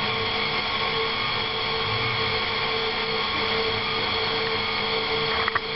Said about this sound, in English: whenever you're using a dough hook and kneading dough, use that on a low speed